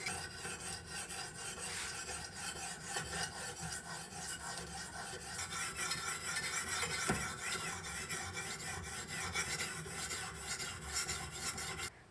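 Survival knife blade stroked across a fine sharpening stone, a continuous dense rasping and grinding of steel on stone, close and steady throughout with slight rhythmic surges.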